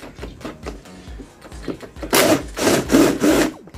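A Makita cordless impact wrench with a size 10 bolt socket removes a bolt: a sustained, loud rattling hammer lasting a couple of seconds after quieter handling clicks, coming through in three surging bursts close to the microphone.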